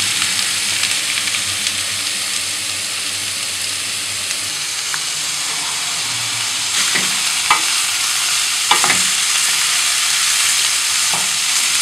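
Carrots and other vegetables sizzle and hiss steadily in a hot pan while cooking for borscht, with a few scraping stirs toward the end.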